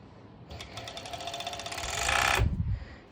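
A serger overlocks fabric for V-shaped bikini bottoms, stitching the crotch area in a fast, even mechanical whir that builds for about two seconds, then stops with a thump as the machine halts.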